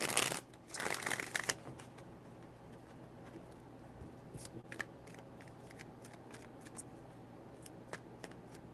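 Tarot cards are shuffled in a brief loud riffle at the start, then quieter scattered flicks and taps of the cards follow intermittently, close and soft, with no speech.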